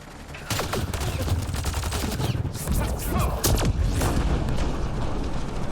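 Video game gunfire rattles in fast, dense bursts, loud and close, with booming impacts mixed in and almost no pause throughout.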